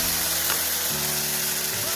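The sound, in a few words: frying onion, spring onion and tomato in a pan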